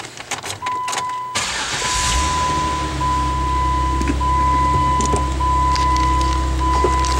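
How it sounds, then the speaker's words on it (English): A 2011 Jeep Wrangler Unlimited Sport 4x4 with manual transmission cranks briefly and starts, then settles into a loud, steady idle with a constant low rumble and a faint high whine. "I'm going to start the engine"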